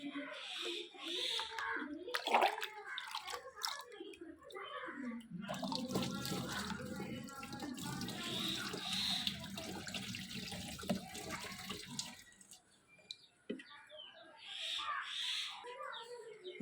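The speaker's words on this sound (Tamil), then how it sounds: "இப்போது தண்ணி ஃபுல் பண்ண போகிறேன்." Water pours and splashes into an air cooler tank during home cleaning, a soft continuous filling rush in the middle of the clip, with a person speaking quietly before and after it.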